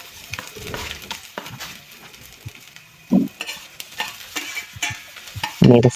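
Garlic and onion are stirred into a pan for chicken feet adobo, with intermittent scraping and stirring over a quiet sizzle and a few louder clinks of utensil against pan, irregular and close.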